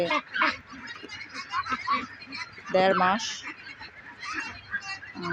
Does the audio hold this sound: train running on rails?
no